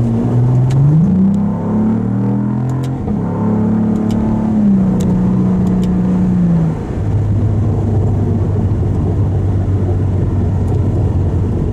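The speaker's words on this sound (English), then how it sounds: "It's a lovely exhaust note." A 2022 Cadillac CT4-V Blackwing's deep exhaust revs up and down several times, then settles into a steady low rumble at idle, loud and close.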